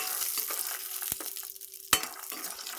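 Peanuts fry in hot oil in a pan for tomato chutney, a close soft sizzle broken by sharp clinks and scraping stirs of a utensil against the pan.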